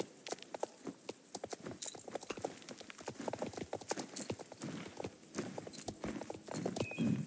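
Hooves of a Tennessee Walker horse clip-clop in a video game, a steady, close, rhythmic stream of hoofbeats heard alone with no talking.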